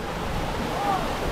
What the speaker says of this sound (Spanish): Esa es la cascada ahí con el agua de acá arriba